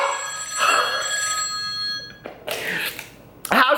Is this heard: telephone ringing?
yes